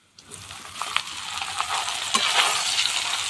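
Soybeans tipped into a pan of garlic fried golden with cumin, setting off a steady close sizzle with faint stirring clinks, building slightly louder over a few seconds.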